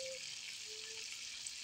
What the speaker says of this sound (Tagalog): Siprito kami ng chicken. Piniprito pa.